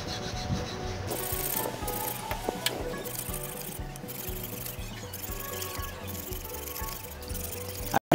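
Hand filing of an electric motor shaft, a steady rasping rub repeated in a continuous back-and-forth rhythm at close range, with no talk over it.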